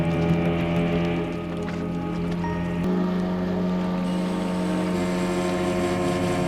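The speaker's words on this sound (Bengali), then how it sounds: "এবারে বোট ভেসেল ঘাট থেকে ছেড়ে বেরিয়ে গেল তারপরেই ছুটল এই বিশাল জলরাশির দিকে" Small boat motor droning steadily as the vessel heads out across the Chandil Dam reservoir in Jharkhand, a constant engine hum with water and wind noise, loud and close throughout, no talk.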